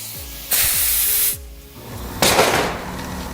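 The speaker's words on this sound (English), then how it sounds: "I'm going to take my tool, I'm going to shoot some air through here" Two sharp bursts of compressed air hiss loudly through the piston cylinder of an air-powered trolley garage door operator, the first steady for under a second, the second rougher and fading, with faint clicks before.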